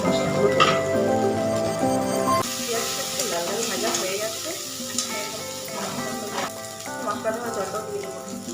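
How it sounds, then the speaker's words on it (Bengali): Onion paste frying in a pan for a home-cooked fish and potato dish, a soft sizzle and hiss under clattering and stirring, with brief faint vocal sounds. "পেঁয়াজ বাটাটা দিলাম পেঁয়াজটা একটু ভাজা হয়ে গেলে"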